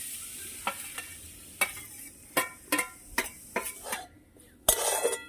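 Grated coconut is stirred in a hot wok, a soft background sizzle broken by sharp scrapes and clanks of a spatula against the metal, about a dozen irregular strokes close by.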